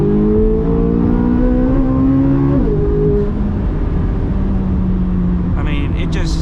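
A Corvette C8 Z06 with an aftermarket Soler throttle controller is floored to full throttle, its engine note rising in pitch through the gears, shifting, then pulling hard again, loud and close from inside the car.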